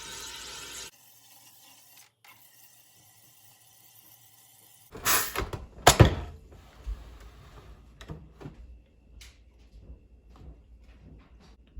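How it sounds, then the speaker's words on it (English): SodaStream Fizzi sparkling water maker carbonating water: after near silence, a sharp hiss and gurgling bursts of gas at close range, followed by fainter sputtering pops. "you simply press this top button and watch the sparkling happen"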